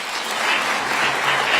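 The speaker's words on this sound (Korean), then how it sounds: "그리고 그에 화답하는 박수 소리에 진심으로 가슴이 뭉클합니다" Dense, sustained applause from a large audience at the Jeju 4.3 memorial ceremony, a steady wash of many hands clapping at once throughout.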